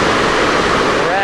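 Loud, steady rushing roar of Victoria Falls fills the whole clip without break.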